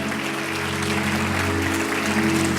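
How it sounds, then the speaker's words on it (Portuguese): A congregation applauding at a church service, a thick continuous wash of clapping with a steady low hum underneath, loud and unbroken throughout. "Dê mais um forte aplauso ao Senhor"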